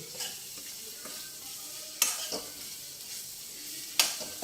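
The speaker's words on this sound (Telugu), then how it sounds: "అల్లం వెల్లుల్లి పేస్ట్ కూడా వేగిపోయింది." Ginger garlic paste sizzles softly in a pan while mutton bones simmer for a sherwa. A utensil scrapes and clinks against the pan every couple of seconds.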